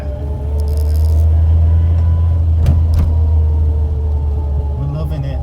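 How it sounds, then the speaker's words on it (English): Inside a 42-year-old Austin Allegro while driving, a steady transmission whine sits over a continuous low engine and road rumble, with a few brief rattles along the way. "I'm loving this transmission whine."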